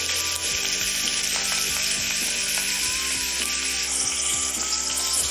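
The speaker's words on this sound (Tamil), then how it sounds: "வெங்காயம் நல்லா ப்ரௌன் கலரில் வர வரைக்கும் வதக்கி வச்சுக்கலாம்" Shallots and onions sauté in a hot pan for mutton biryani, giving a steady, close sizzle and fry with faint scraping and clicking underneath, no voices.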